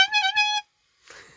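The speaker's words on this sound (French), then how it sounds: "Petit klaxon." A short van horn beep gives two or three quick pulses as a signal, loud and close, then silence followed by a faint rumble.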